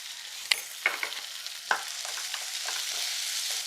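Crushed dried chilli and curry leaves sauté in a pan with a soft steady sizzle, punctuated by a few sharp spoon taps and stirring scrapes.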